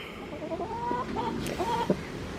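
A broody hen sits in a nest box and gives soft, low clucks and murmuring grumbles, a few short calls in a quiet stretch, heard close and faint.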